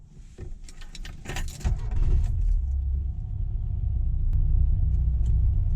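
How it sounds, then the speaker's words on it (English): Keys jangle and rattle, then a classic Mini's small engine starts and settles into a steady, smooth low idle that runs on evenly. "the engine just idles beautifully"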